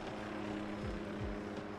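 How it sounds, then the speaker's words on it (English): A helicopter flying outside makes a low, steady droning whir, fairly distant and muffled, with no talking over it. "Was there a helicopter outside?"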